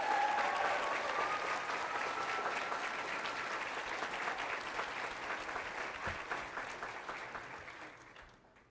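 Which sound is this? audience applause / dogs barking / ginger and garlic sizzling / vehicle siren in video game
audience applause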